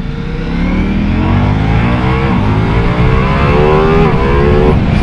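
A Ducati Multistrada V4S motorcycle accelerates hard in sport mode. The loud, close engine climbs steadily in pitch through the gears, with brief shifts between rising revs and no talk.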